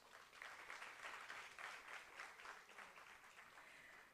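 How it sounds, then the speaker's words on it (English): A crowd applauding at a workshop, a dense patter of clapping that swells and then slowly fades, heard from a distance and at low volume. "Can we have a huge round of applause?"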